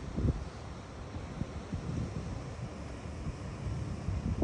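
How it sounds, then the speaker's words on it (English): A light, shifting desert breeze in Death Valley on a hot July day, heard as a steady low rumble of wind buffeting the microphone, with soft gusty surges throughout and no voices. "West-southwest wind, now back to south. Just slightly breezy here."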